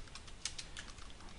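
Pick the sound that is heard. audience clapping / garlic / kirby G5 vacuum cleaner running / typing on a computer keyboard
typing on a computer keyboard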